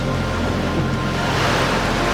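Sea waves rolling in and breaking on My Khe Beach, a steady, fairly loud wash of surf with constant broadband rush, no voices over it.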